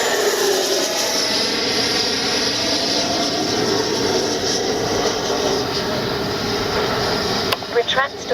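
An FMS Avanti S 90mm RC jet flies past at full speed outdoors, producing a continuous loud, rushing roar that holds steady throughout, with a few sharp knocks in the last second.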